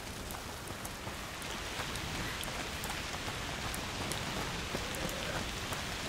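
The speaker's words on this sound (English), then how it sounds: "Foul rain." Steady rain pouring in the video game A Plague Tale: Requiem, a dense, even hiss of drops pattering on surfaces, fairly quiet and continuous with no voices.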